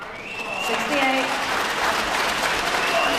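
A sizable snooker crowd in Blackpool breaks into warm applause, the clapping swelling quickly and holding as a dense, steady patter over a faint voice.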